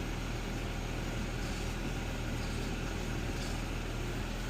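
A 2009 Ford Edge engine idles at a dealer auction, giving a steady, even hum with no change in pitch or level throughout.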